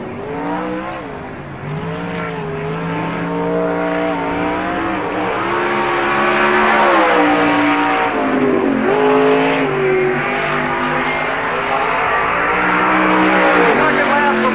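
Race car at full throttle lapping Park Jefferson Speedway during a 1997 NASCAR Busch All Star Tour event. A loud, steady engine roar rises and falls in pitch through the turns as an announcer talks over it.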